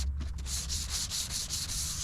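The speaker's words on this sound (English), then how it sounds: "If it starts while you're sanding with your 600 grit" A car hood is hand-sanded with 600 grit sandpaper during dent repair, giving close, rhythmic scratchy strokes, about a dozen even back-and-forth rubs in quick succession.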